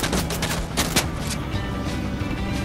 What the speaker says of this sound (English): Yo, the guy's shooting me.